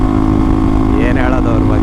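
A motorcycle fitted with an Akrapovic exhaust rumbles loud and steady up close on a morning ride to the office, its low engine drone constant, with a rising whine and wind noise as it picks up speed.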